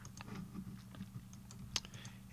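Quiet keyboard typing at a computer during 3D software work, a scatter of soft, irregular key clicks with one sharper click near the end over a low steady background hum.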